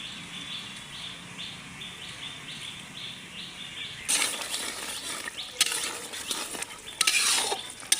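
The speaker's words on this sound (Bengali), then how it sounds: "মাংসটা কিন্তু প্রায় কষানো হয়ে গেছে তো আর একটু কষিয়ে নেওয়ার পরে ঝোল দিয়ে দেওয়া হবে" Meat stirred and fried in a pan for kosha: after a quieter stretch with faint repeated chirps, close scraping and clattering stirs of a utensil in the pan begin and come in bursts.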